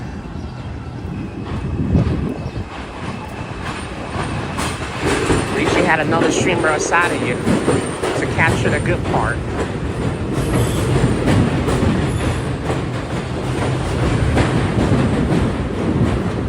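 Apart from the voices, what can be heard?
train passing in the Bronx, New York City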